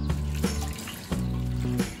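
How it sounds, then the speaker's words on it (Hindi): Water runs steadily from a tap onto rinsed poha (flattened rice) set to soak in a kitchen. It is a close, continuous splashing stream with a couple of brief surges and no talking. "हमने पोहा को दो तीन बार अच्छी तरह से धो लिया है इसमें हम पानी डालेंगे"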